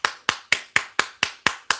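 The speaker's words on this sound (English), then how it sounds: "I just want to make sure you get your applause, Mike." Eight sharp, evenly spaced hand claps in a quick steady rhythm, close and crisp with nothing else behind them.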